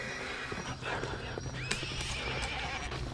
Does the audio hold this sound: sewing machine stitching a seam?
no